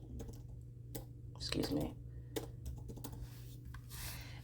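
Keystrokes on a computer keyboard as a short prompt is typed, light clicks scattered through a steady room hum, with a brief spoken phrase in the middle.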